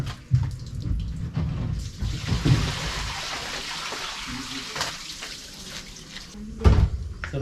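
Pressure-washing with a water hose, spraying underneath and around a base: a steady rushing hiss of jetting water with uneven surges and a few dull knocks.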